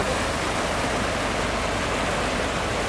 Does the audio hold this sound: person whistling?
no